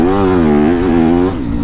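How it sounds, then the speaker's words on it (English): A Yamaha YZ250 dirt bike engine revs up as the throttle is rolled on, a loud close buzzing tone climbing and wavering in pitch for over a second before easing off. "roll on the throttle, and then go"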